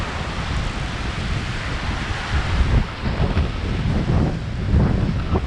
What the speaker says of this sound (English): my apologies about the wind as well